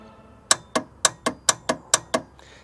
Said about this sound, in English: That is the sound of the starter motor no longer operating.